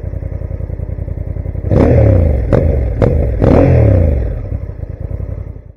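A motorcycle engine thrums loudly up close with a low, pulsing beat, then surges through several quick revs and shifts before easing back to a steady run.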